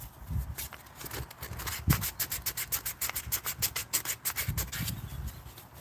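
Wood, likely hard oak, is sanded by hand in quick back-and-forth strokes, a close, rhythmic rasping that repeats steadily and fairly quietly.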